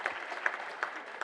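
A small group claps at a memorial gathering, applauding a donation. The claps are scattered and uneven, with a few sharp individual claps standing out over a thin wash of clapping.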